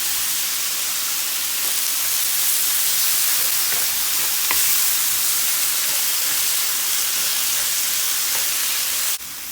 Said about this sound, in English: And let it simmer for a bit. Turn the heat down.